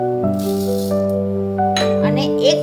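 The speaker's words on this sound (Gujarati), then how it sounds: "2 વાટકી ચણાની દાળ લઈશું" Dry chana dal is poured into a bowl while preparing Gujarati Surti locho, giving a short grainy rattle that swells near the end over steady background music.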